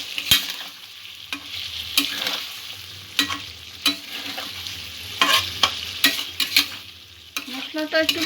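Spinach-potato masala with chili powder being stirred and fried in a pan: frequent sharp scraping strokes of a spatula over a bright continuous sizzle, close and fairly loud, no talking.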